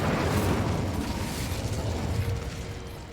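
An Incendio fire spell in Hogwarts Legacy produces a continuous roaring, crackling blast with a heavy low rumble. It opens loud and slowly fades over a few seconds.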